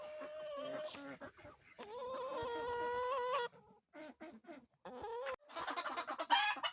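A few backyard chickens cluck and squawk close by in short bursts and longer calls, with ducks nearby on a small homestead, a faint voice briefly underneath.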